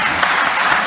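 Applause fills a parliament chamber, a steady, dense wash of clapping from many hands with no pauses.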